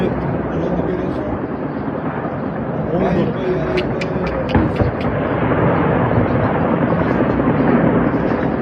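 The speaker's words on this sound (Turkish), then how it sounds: "Drone uchyapti." Drone flying overhead during an air-defence attack on Moscow, a steady loud buzzing drone with a few sharp thumps and crackles midway, with voices talking throughout.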